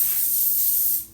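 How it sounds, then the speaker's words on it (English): A short, steady hiss of light spray mists over prepared vegetables, close and even for about a second before cutting off. "now we're just gonna give a light spray"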